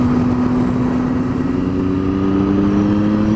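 Triumph Street Triple R engine while riding on a smooth country road, a loud steady mid-pitched drone with gradually rising pitch as the bike accelerates, mixed with wind noise.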